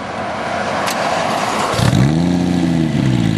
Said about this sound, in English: We're going to do cold start up.